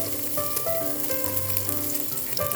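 Mixed vegetables sizzle steadily in a little added cooking oil for a Filipino coconut-milk vegetable stew, a close, continuous frying crackle with faint tonal kitchen hum and no talk.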